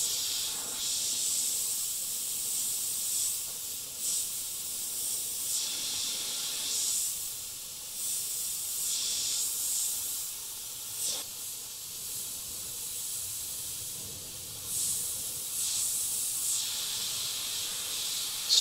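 An airbrush sprays blue candy paint onto skulls in repeated bursts of hissing air, close and fairly loud, starting and stopping every few seconds.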